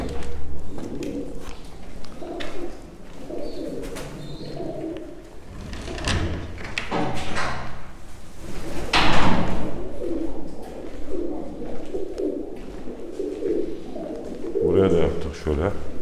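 Soft cooing of a Mardin tumbler pigeon with yellow eyes repeats throughout, low and close, mixed with someone talking and some handling noises.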